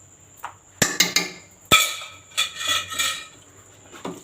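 Metal spoon clanks and scrapes against a cooking pot while butter is stirred into a radish and spinach curry, village style; several sharp knocks and a run of scraping strokes, close and fairly loud, with no talk.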